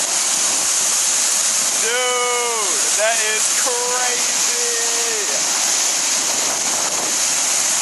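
Water pours out heavily like a waterfall outdoors, a loud, constant roar that fills the whole clip, with someone talking over it and a few whistled or squealing sounds partway through.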